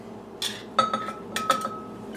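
Cut garlic tossed into a cooking pot of cowboy beans lands with a few brief metallic clinks and taps, close and fairly quiet.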